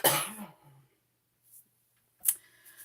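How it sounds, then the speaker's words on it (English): A single harsh cough or throat clear bursts out close by, followed by faint small clicks and another short sharp cough in otherwise quiet surroundings. "Oh, the coughing."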